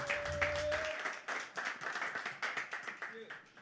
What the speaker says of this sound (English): Now you can applaud yourself, you know.